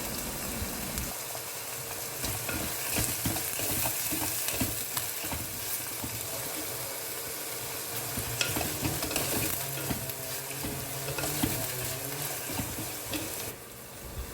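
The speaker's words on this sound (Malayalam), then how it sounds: "ചെറിയ ഉള്ളി ഇട്ട് കൊടുക്കുക ഇത് എണ്ണയിൽ നന്നായി വഴറ്റിയെടുക്കുക കറിവേപ്പില ഇട്ട് കൊടുക്കുക" Small onions and curry leaves sauté in hot oil with a steady, dense sizzle and the repeated scrape and clatter of a stirring spoon in the pan, close and continuous with no talk.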